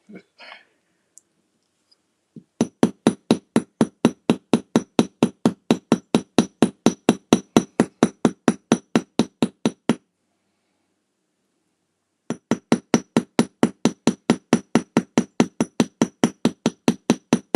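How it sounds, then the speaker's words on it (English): A hammer lightly taps jewelry metal in a fast, even series of crisp clicks, stops for a couple of seconds, then resumes at the same steady rhythm. "These are probably the lightest taps Peggy has ever heard come from my hammer."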